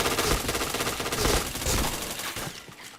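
Rapid bursts of automatic gunfire from a shooting video game, a dense continuous fusillade of loud, close shots that rattles on for the full stretch with no talking.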